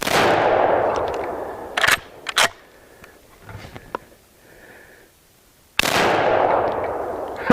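A Savage 99EG lever-action rifle chambered in .300 Savage fires twice, each a loud broadband blast with a long decaying tail, separated by quieter mechanical clicks and handling noises in between.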